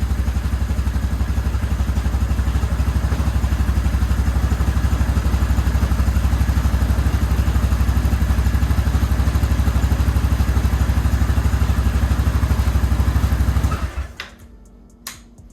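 A 2008 Yamaha Grizzly 350 ATV idles after a carburetor clean, a steady close, loud mid-pitched engine chug with faint clatter that runs evenly, then cuts off near the end, leaving brief quiet clicks.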